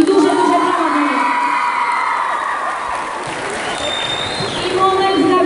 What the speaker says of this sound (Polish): I duże, duże brawa dla niego.